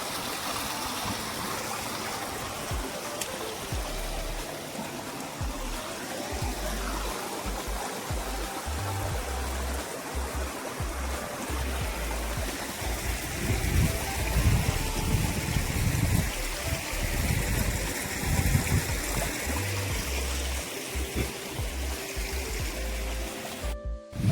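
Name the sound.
stream water flowing after monsoon rain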